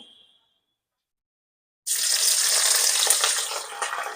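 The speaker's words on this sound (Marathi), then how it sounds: "मिरच्या तेलात टाकून घेतलं गॅस फुल करायचा" Green chillies, slit lengthwise, hit hot oil on a medium gas flame: after near silence, a sudden loud burst of hissing sizzle starts and continues steadily, close and bright, with small crackles throughout.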